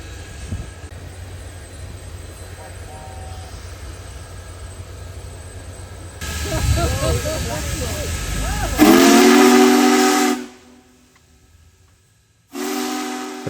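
Big Boy steam locomotive arrives after rain, first a low rumble, then a loud close steam whistle blast with heavy hissing, a brief lull, and another whistle sounding at the end.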